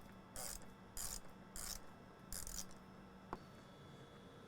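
Four short bursts of ratchet clicking as a Torx 27 screw is loosened during removal of an intake half-wall on a 2024-2026 Can-Am Maverick R, each burst roughly half a second, close up, with a faint tap near the end.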